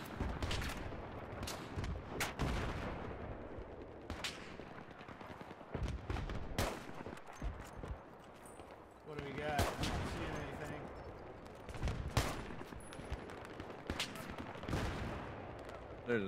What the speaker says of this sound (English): There's a tank down by their spawn that's just dropping shots on the grass map